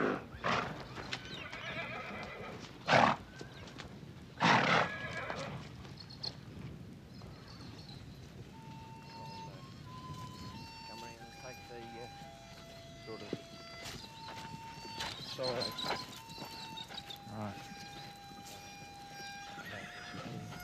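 Feral Brumby horses in Australia neigh and whinny several times over hoof clip-clop and shuffling, with a couple of loud close calls early and fainter whinnies later, while a narrator speaks over them.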